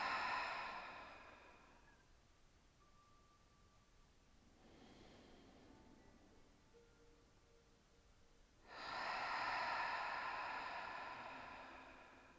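Slow breaths exhaled at close range during a guided yoga breathing exercise, with a strong breathy rush at the start, a softer one in the middle and another loud exhale near the end, separated by quiet pauses.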